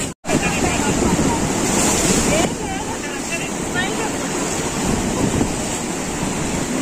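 Sea waves washing ashore at Thotlakonda beach in Vizag, a steady loud surf wash mixed with wind noise, with faint voices in the background.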